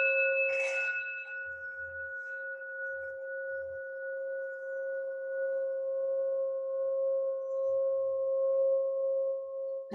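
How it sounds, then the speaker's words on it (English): A single strike of a small bell gives a bright ding that rings on steadily for about nine seconds, slowly fading, with a few soft low thumps underneath. "I'm going to ring my bell"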